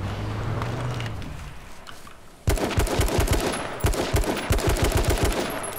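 Gunfire in H1Z1: after a quieter stretch, a loud burst of rapid, evenly spaced shots breaks out and continues as a fast automatic stream of close cracks.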